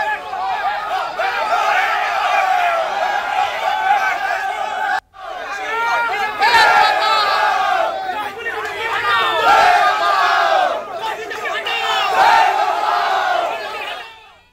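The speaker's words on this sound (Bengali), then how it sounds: "তাকে ঘিরে ধরেই গো ব্যাক স্লোগান দেয়া হলো" Protesters surrounding Amrita Roy, queen mother of the Krishnanagar royal family, in Chapra, Nadia, chant loud rhythmic go-back slogans as a dense, close crowd, pausing briefly before surging again.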